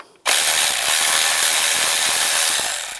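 A 10mm socket ratchet clicks rapidly and steadily on a valve cover bolt of a 2007-18 Jeep Wrangler, starting abruptly after a brief silence and running close and loud for nearly three seconds.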